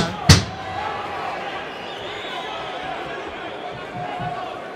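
A fighter is slammed to the mat in a Karate Combat bout, a sudden loud thud near the start followed by steady arena crowd murmur and commentary.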